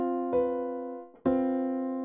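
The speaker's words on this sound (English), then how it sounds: "Minor, quote-unquote, minor quartal chord would sound like this." A minor quartal chord is played twice in succession, each strike ringing clearly and sustaining before decaying, loud and isolated with no voices.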